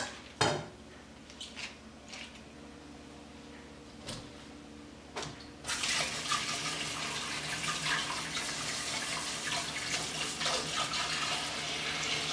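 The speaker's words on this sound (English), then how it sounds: "I have a bowl with some water in it, and I'll clean the leeks." Tap water running over leeks being rinsed in a bowl of water, a few light clinks and knocks first, then a steady rushing stream that continues to the end, close and fairly quiet.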